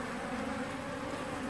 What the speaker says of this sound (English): These bees are angry.